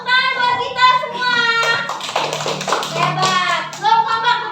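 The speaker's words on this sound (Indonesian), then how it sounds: "Tepuk tangan buat kita semua." A classroom of children bursts into clapping applause after a teacher's spoken prompt, a dense burst of many small hands lasting a couple of seconds, with children's voices mixed in before and after.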